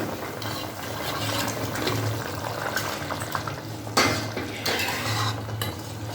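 Paneer goes into a simmering pot of boiled potato curry, with close-up clinks and scrapes of a spoon against the pot over a low bubbling, and one sharper knock partway through.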